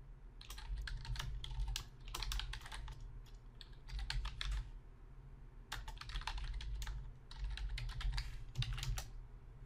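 Rapid typing on a computer keyboard, close and fairly quiet, with bursts of clicky keystrokes broken by short pauses and no voice.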